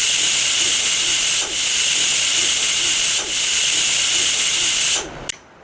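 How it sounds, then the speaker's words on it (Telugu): A pressure cooker whistles while cooking prawn pulao, a loud sustained hissing jet of steam broken by brief dips, then cut off sharply near the end with a short click. "మనకి ఇది విజిల్ పోయిందండి"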